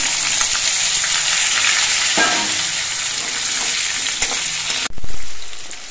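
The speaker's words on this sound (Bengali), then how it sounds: "এবারে এই তেলের মধ্যে আলুগুলো ভেজে নিচ্ছি" Potato pieces fry in hot oil, after fish pieces, with a loud, steady sizzle, joined by scraping stirs, then a sharp clatter near the end.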